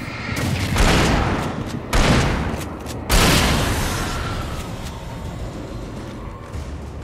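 A flashbang explosion and gunfire in the horror shooter Alan Wake: three loud, booming blasts about a second apart, each fading into a long roaring tail, close and with no talk.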